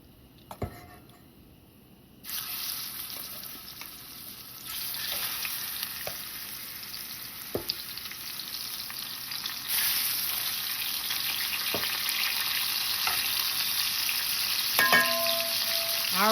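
Tuna steaks frying in a skillet, a quiet start that jumps into a loud continuous sizzle, growing stronger later, with a few faint clicks and taps.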